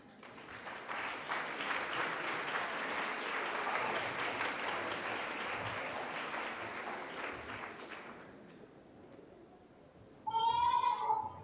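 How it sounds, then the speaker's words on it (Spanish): Sustained applause from a large audience fills most of the clip, then fades out; a short burst of high, bright tones follows near the end. "Recibámosla com um forte aplauso."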